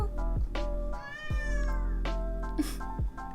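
A cat meows repeatedly and close up, giving several drawn-out, plaintive cries in quick succession, loud and clear with no talk over them.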